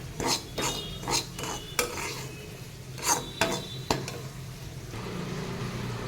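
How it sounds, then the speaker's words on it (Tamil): Semolina roasting in a pan over a medium flame, with repeated scraping and tapping of a utensil against the pan and a soft background hiss, close and moderately quiet. "பொன்னிறமாக வறுத்துக்கோங்க மீடியம் ஃப்ளேமில் வச்சு."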